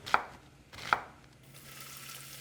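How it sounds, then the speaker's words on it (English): A knife chops an onion on a cutting board, two crisp, well-spaced thuds close by, followed by a quiet background hum and no speech. "I need about a 1/4 cup of chopped onion."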